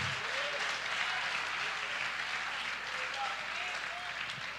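Applause from a church congregation during a Wednesday service, a steady wash of hand claps filling the space, with a voice speaking faintly over it.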